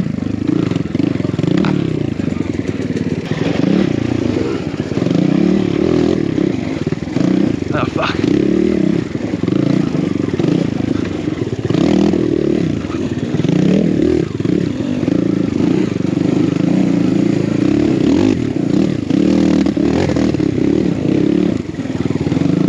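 Two-stroke enduro motorcycle engine revving up and down in repeated swells, a buzzy, rattly mid-pitched drone heard up close, with someone talking over it at times.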